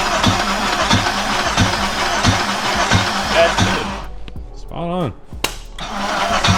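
A K-series car engine cranks with a rhythmic starter chug, then fires and revs up and down in rising and falling sweeps before settling into a running drone, loud and close, with a brief spoken remark.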